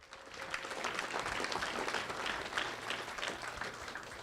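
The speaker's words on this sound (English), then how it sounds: "So let's give a round of applause for Molly Ewald." A football banquet audience gives a round of applause, a dense, even wash of many hands clapping that carries steadily throughout without talk.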